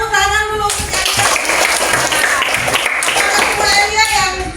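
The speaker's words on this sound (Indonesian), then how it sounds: "Iya, tepuk tangan dulu untuk Elia." Schoolchildren clap together for a classmate in an Indonesian classroom, a steady, dense patter of many small hands that runs throughout, with children's voices mixed in.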